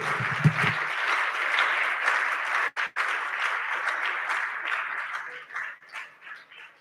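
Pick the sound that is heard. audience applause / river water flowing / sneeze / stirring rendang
audience applause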